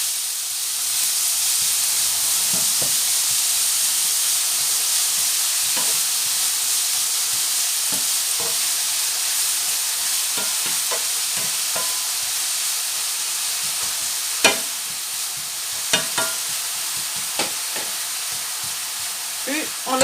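Brown sugar caramelizing in a hot pan gives a continuous bright sizzle and hiss, with occasional clicks of stirring against the pan, close and steady.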